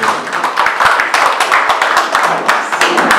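A church congregation claps together in acclaim after a prayer, dense and continuous hand clapping with irregular sharp claps standing out throughout.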